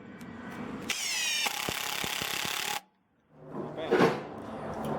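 A Masterforce brushless impact driver runs in low mode, driving a 2-inch construction screw into wood: a loud, steady whine with rapid hammering clacks that stops abruptly, then after a brief silence a second burst of motor noise.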